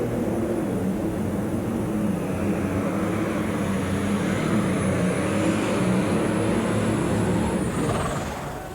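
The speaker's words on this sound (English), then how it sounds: "Mike knows the sound of that John Deere." A John Deere pro stock pulling tractor, 10,200-pound class at a Louisville tractor pull, roars with a sustained heavy engine drone at high revs. The sound stays loud and steady, then eases off at the very end.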